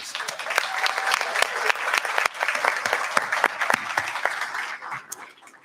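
An audience applauds to welcome new members at a community event, with dense, steady clapping throughout, crisp individual claps rising above the wash and a slight taper at the end.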